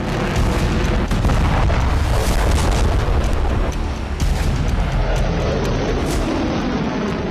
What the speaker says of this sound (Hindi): रात के अंधेरे में एक के बाद एक 2 मिसाइलें दागी गई।